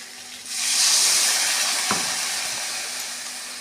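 Water poured into a hot pan of fish head curry with potatoes, aubergine and tomato, giving a loud, sustained steaming hiss and sizzle that bursts up, then slowly fades while still bubbling.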